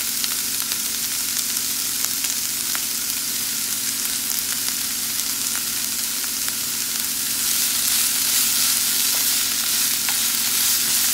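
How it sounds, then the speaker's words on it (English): Capsicum frying in a pan, a dense steady sizzle with occasional small crackles and stirring, close and loud with no voices. "Let the capsicum become little softer."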